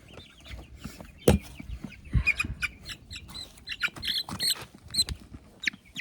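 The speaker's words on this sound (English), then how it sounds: "This is a baby barred rock." A baby Barred Rock chick on a farm gives high, thin chirps and peeps in quick irregular bursts, close by, over soft rustling and shuffling.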